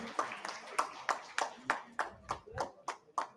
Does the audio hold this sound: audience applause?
yes